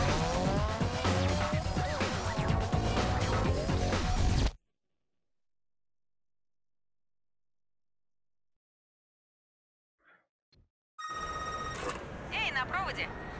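A telephone rings in the racing game Need For Speed Underground 2. Roaring cars and screeching tires come first, then a pause of near silence, and then a bright, repeated electronic ring mixed with other game sounds.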